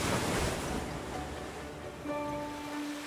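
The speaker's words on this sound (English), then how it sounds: "I hear the ocean." Soft ocean-like surf rushes faintly as if heard from a seashell held to the ear, a hollow, steady wash with a low wind-like roar.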